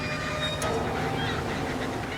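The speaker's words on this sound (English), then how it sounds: "The gathering birds seem to know what comes next." Gulls and seabirds flock over a deep-sea fishing trawler, honking and calling in a continuous chorus above a steady engine drone and rushing water.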